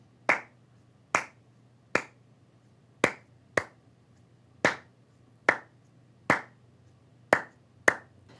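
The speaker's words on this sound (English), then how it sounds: "If I clap out this rhythm, it sounds like this." Hand claps tapping out the Afro-Cuban clave pattern, eleven sharp close claps in an uneven repeating rhythm over a quiet low hum, with no talking.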